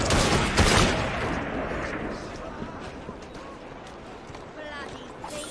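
A volley of gunfire erupts in the Assassin's Creed Syndicate video game, a loud dense crackle of many shots at once that trails off into continuing rough noise, with voices mixed in.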